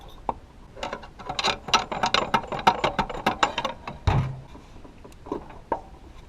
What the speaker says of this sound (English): take the two pry bars and just kind of wiggle them back and forth